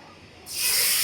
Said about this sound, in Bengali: হয়ে গেছে, এখন আমি মাছটা দিয়ে দেবো।